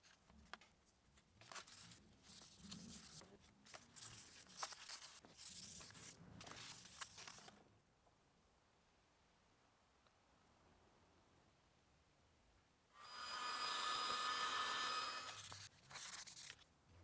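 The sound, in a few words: hand sanding with 400 grit sandpaper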